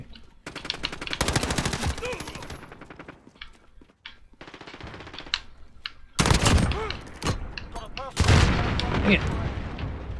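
Gunfire in Call of Duty Modern Warfare comes in rapid automatic bursts with sharp single shots between, some loud and close, separated by quieter gaps, while a player's voice speaks now and then.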